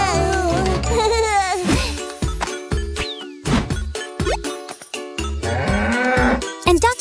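A cartoon cow moos in a children's animated episode about farm animal sounds, a loud drawn-out call set against bright jingling music and bouncy sound effects that run throughout.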